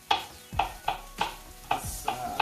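Food sautéing in a pan for a pot of Great Northern beans with smoked turkey necks, a steady sizzle broken by regular scraping stirs about every third of a second, close and fairly loud.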